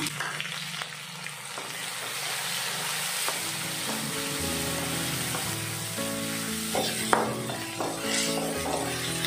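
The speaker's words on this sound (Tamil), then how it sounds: "எடுத்து வச்சுருக்க பெரிய வெங்காயம் இது லைட்டாக வதக்கிக்கலாம்" Large onions sauté lightly over a low flame in a pan while cooking garlic dosa, making a continuous soft sizzle broken by a few stirring scrapes and light clinks.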